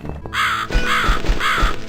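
A crow caws in the video game The Cat Lady, with three loud, harsh caws in steady succession close up over a low ambient background.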